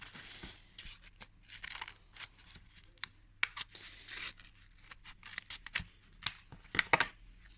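Scissors snip paper into small heart-shaped petals for a decorated Christmas jar craft, giving a run of quick, close crisp cuts and rustles with brief pauses between them.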